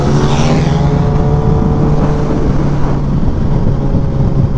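A Kawasaki Ninja ZX10R liter-class motorcycle engine holds a steady, loud, close drone with a slight rise in pitch as it accelerates, mixed with wind noise.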